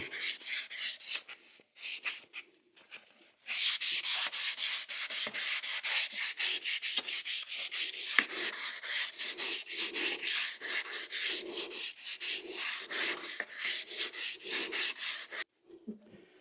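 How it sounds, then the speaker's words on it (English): Steady rhythmic sanding on a wooden rolling pin turning on a lathe, fast back-and-forth scratchy strokes repeating evenly for a long stretch, close up, after a few brief starts. "while it's on here, it's being held by the lathe. It's pretty easy to sand it."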